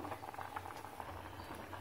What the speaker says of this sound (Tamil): இப்போ அது நல்லா கொதிக்கட்டும்